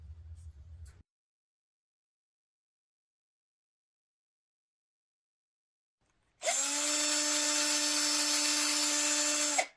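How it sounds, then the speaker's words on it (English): A brief low rumble, then silence, then a loud, steady high-pitched whine of a power drill running continuously for several seconds before stopping. "Girls with power tools rock."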